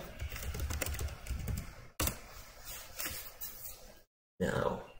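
Typing on a computer keyboard to log in, bursts of quick close key clicks broken by short pauses, with talking over part of it.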